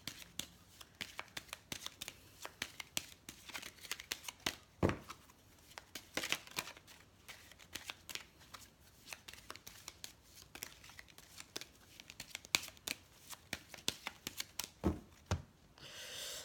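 Lenormand fortune-telling cards being shuffled and handled, a long run of crisp riffles and papery slaps and flicks recorded close up, with no talking.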